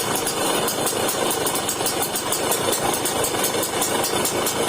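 A Suzuki X4 two-stroke motorcycle engine idles steadily and close by, with a fast, even putter that holds unchanged throughout.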